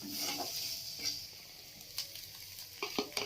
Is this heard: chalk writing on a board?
no